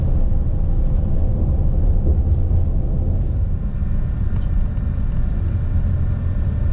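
A FlixBus coach cruises along the M90 motorway, its cabin filled with a loud, constant low engine and road rumble that barely changes. Nobody speaks.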